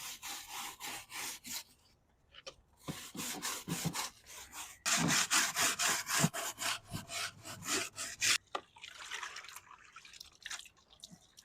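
A stiff exterior brush scrubs the tire of a heavily used Duramax dually truck during a wash, making rhythmic, close rasping strokes in bursts with short pauses and some dripping between them.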